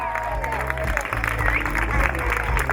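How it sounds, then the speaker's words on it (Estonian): An outdoor crowd at a car meet applauds for two men, a scattered clapping wash under someone talking over a loudspeaker, with low engine or music rumble beneath. "aplaus mõlemale mehele"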